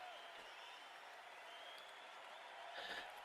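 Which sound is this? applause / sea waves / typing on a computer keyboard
applause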